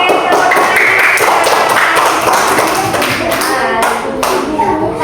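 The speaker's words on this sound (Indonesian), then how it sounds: "Tepuk tangan untuk kelompok panen" A classroom group claps for the harvest group, with loud, fairly uneven hand claps and taps coming close together, some sharp and distinct, continuing for several seconds.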